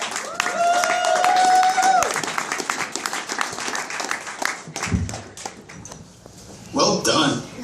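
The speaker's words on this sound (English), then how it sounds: "Keep it going for Patrick Kempfer" Comedy club audience applauding on State Street, a dense wash of clapping that swells early and then thins into scattered claps, with a burst of louder clapping near the end and a voice audible amid the noise.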